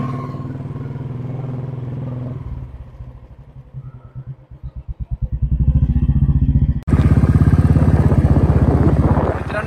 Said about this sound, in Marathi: आणि ही जी बुलेट आहे ही माझ्या सिस्टरच्या हजबंडची गाडी आहे